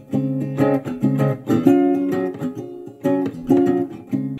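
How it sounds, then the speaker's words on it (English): Strummed acoustic guitar chords captured on a phone, played alone in a steady rhythmic pattern, with bright, close, full-bodied strums and short pauses between phrases. "So this bottom recording here is my phone recording, and it sounds like this."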